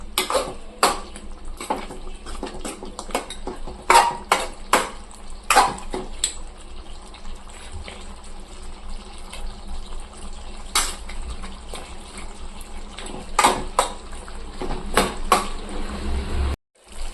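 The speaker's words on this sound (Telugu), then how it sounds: "ఉప్పు వేసిన తర్వాత కొంచెం కలపాలి" Chicken curry stirred in a pan after salt goes in, a spoon clinking and scraping against the metal in irregular sharp knocks over a soft sizzle, close by.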